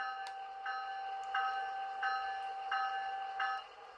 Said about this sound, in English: F1 is bell.